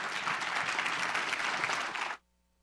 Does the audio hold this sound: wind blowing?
no